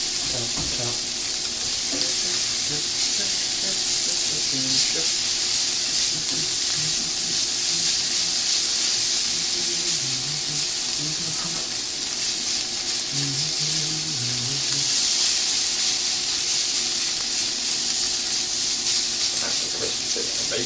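Bacon frying in a pan on the hottest hob setting and crisping up, with a steady, close hiss and sizzle and small crackles and pops throughout, with no talking.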